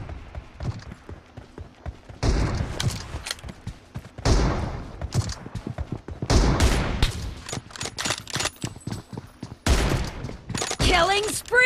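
Rapid gunfire bursts crackle through a shooter video game match, loud, dense volleys alternating with brief lulls over roughly twelve seconds.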